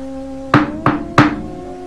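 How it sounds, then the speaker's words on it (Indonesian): Three soft knocks on a bedroom door, evenly spaced about a third of a second apart, close and alone against a faint steady hum. "Pintu kamarnya diketuk 3 kali dengan pelan"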